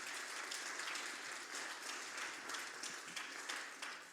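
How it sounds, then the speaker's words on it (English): An audience at a church gathering applauds Brandon after his story, a broad, even round of clapping that carries on steadily and fairly softly from start to finish. "Give him a round of applause."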